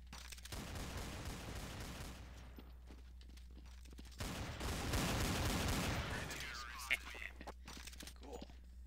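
Gunfire in the game Counter-Strike: Source, with two rattling bursts of rapid shots separated by a lull, set against a low steady hum, and a voice speaking nearby.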